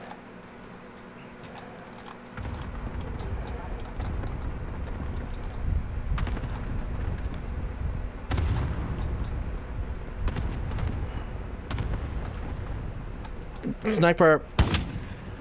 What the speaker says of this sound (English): we just got hit by an airstrike again